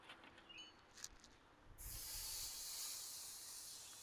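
A breakfast fatty starts sizzling on an Acorn grill, a steady bright hiss that rises suddenly after a few faint clicks and holds loud and close.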